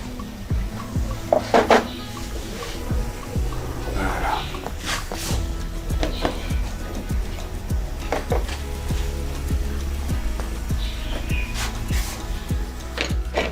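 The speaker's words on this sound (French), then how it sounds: "Alors, on ajoute les haricots." Beans go into a cooking pot with clattering metal knocks, scraping and scattered clinks of utensils against the pot and dishes, amid kitchen bustle.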